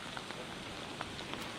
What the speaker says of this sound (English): The rain is really coming down here. The hail is coming down.